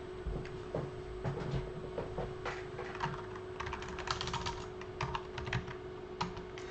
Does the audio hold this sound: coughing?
no